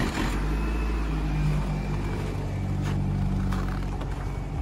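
The engine of a 2017 Nissan Rogue SV AWD, started remotely, idles in a low, steady rumble, close and even throughout, with no voices.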